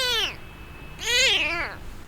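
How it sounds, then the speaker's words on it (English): A blind kitten with infected eyes, lying in a fruit crate, gives two loud, close, wavering meows separated by a short pause. "lying helplessly inside a fruit crate, meowing for help"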